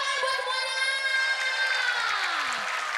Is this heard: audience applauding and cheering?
yes